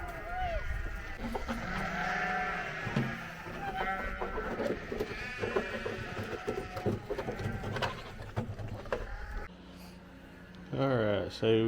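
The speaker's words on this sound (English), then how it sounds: "Here's our group of the little weanling rams." Young weanling ram lambs on a farm bleat repeatedly, overlapping calls near and far, with a person speaking among them and a brief louder bleat toward the end.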